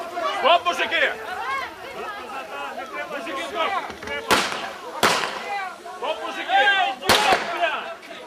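Three sharp, loud gunshots ring out at irregular intervals over agitated crowd chatter and shouting voices.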